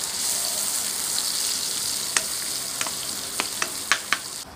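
Garlic and onion sauté in a hot pan with a steady, bright sizzle, and sharp clicks of a utensil stirring against the pan come in toward the end, all close up and with no talking.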